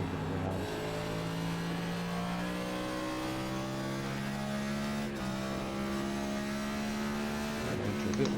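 A NASCAR NextGen car engine at Richmond in the video game iRacing drones loudly and continuously, its pitch climbing under acceleration, dipping sharply around a shift or corner entry, then rising again.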